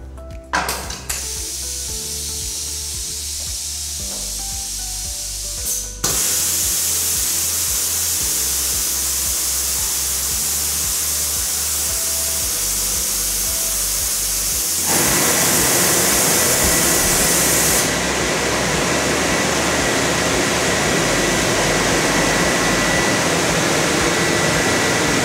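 An MPT DL trouser topper finishing machine gives a loud, continuous hiss of steam, then stronger ventilation airflow that roars on steadily, with several abrupt changes in intensity and no one speaking.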